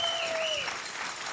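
An audience applauds in a dense, steady burst for sponsors at a live program event. The clapping fills the whole moment without a break, and no one speaks over it.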